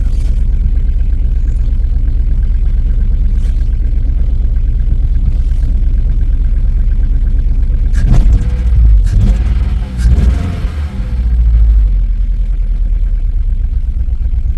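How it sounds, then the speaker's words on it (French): A VW Golf 3 engine idling at about 1000 rpm while being checked for a fault, a steady close low rumble with a brief rev and some knocks near the middle before it settles back to idle. "Elle tourne, elle est au ralenti, elle est bien quoi, elle monte, hein. Bon, elle est à 1000 tours minute"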